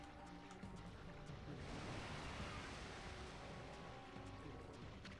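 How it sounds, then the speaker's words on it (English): Rolling ocean waves swell in the Okami HD video game, a steady soft wash of surf that builds and surges midway, faint and distant with no voices. "This swelling of the waves is a sign that it's coming."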